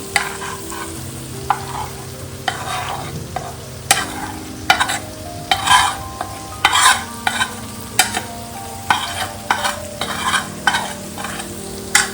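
Spice masala mixed with curd fries in a hot pan for a yam (suran) curry, with repeated scraping stirs over a continuous sizzle and no talking.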